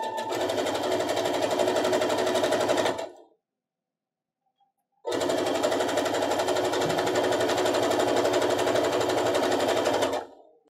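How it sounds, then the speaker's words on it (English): A sewing machine stitches quilt block pieces together with a loud, steady, close mechanical whir. It runs in two long bursts separated by a couple of seconds of silence. "now we've got to sew to this side"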